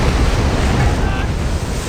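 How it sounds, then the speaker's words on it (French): Wind and ocean waves in the naval submarine game Silent Hunter 5: a steady, loud wash of surf and gusting wind that fills the whole clip without pause. "En plus, il y a pas mal de vent."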